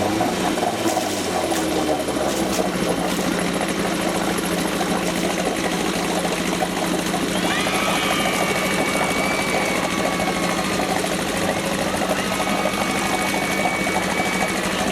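A Johnson 4 HP outboard motor, cold-started after being fixed, runs steadily at a constant throttle with a buzzing, sewing-machine-like drone from start to finish.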